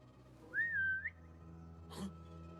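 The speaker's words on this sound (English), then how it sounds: "My whistle range is a lot smaller than it has been in past games, which is nice" A character in Assassin's Creed Mirage gives one short, clear whistle at a steady pitch with a little upward flick at the end, over a low game ambience, followed by a brief breathy rustle.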